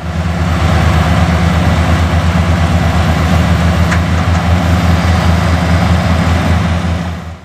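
A mechanical onion harvester on a Western New York yellow onion farm runs at a steady idle, a loud low engine rumble that holds constant throughout before easing off at the very end.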